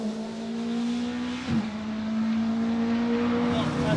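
A circuit rally car at the Jack Frost Stages drives past on a stage, its engine drone steady at a distance, with speech partly over it.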